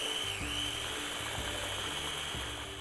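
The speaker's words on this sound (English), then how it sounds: "we just want to take a minute to blend this up a little bit before we add the peanut butter" Blender whirring through a sweet potato mixture, a steady high-pitched motor whine with a low choppy pulsing as the blades catch chunks, continuous and moderately quiet with no talking.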